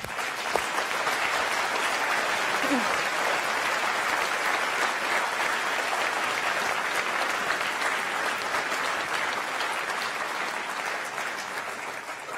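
An audience at a France Insoumise rally in Limoges applauds its lead candidate, a steady, dense wash of clapping hands that holds evenly for the whole stretch without letting up.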